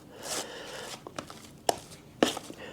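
Joint compound mixed with salt for a drywall patch, scraped and stirred in a container with a few sharp knocks and scrapes of the tool, fairly close and quiet, with no talking.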